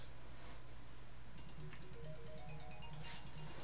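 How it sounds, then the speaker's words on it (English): A faint phone alarm tone beeps in a repeating pattern of short, evenly spaced pulses, quiet against a low background hum indoors. "alarm's going off. Shut up, phone."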